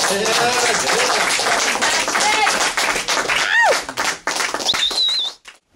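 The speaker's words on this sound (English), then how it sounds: "So I'd like to start our circle out by hearing a few words from Jeff and give him a round of applause." An audience at a talk circle on poverty and rights claps for a speaker, a close, dense round of applause mixed with voices and a whistle before it fades out.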